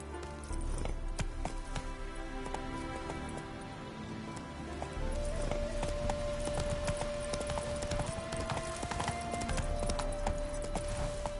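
A horse trots through The Witcher 3: Wild Hunt, Hearts of Stone, its hooves clip-clopping in a steady rhythm at close range with game music running underneath.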